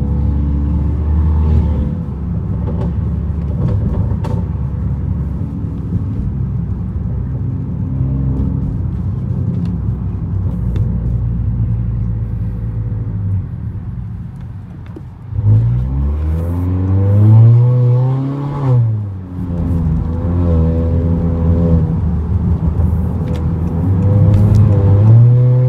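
Tuned exhaust on a 2019 Honda Accord Sport 1.5T heard from inside while driving, a steady low drone with rising and falling revs and a throaty acceleration swell in the second half, no talking.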